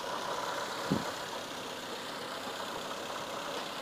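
A car engine idles steadily during an under-hood inspection of a low-mileage car in normal, smooth condition, giving a continuous broadband hum with one brief soft knock near the start and no voices.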